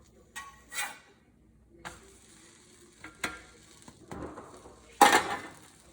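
Blueberry pancakes cook in a pan with a soft sizzle, broken by a few scrapes and clinks of a utensil against the pan and one louder scrape near the end.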